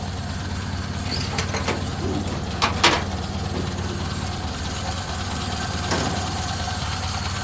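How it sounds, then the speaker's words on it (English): A 1931 Ford Model A Town Sedan engine idles with a steady, low, even rumble throughout, close by, with a few faint clicks and taps over it. "The motor sounds great"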